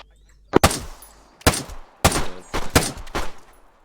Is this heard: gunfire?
yes